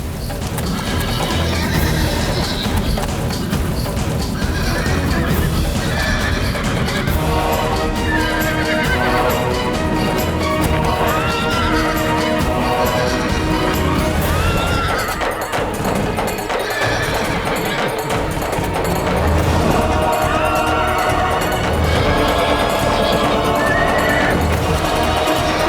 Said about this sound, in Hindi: वो घोड़ा बेकाबू है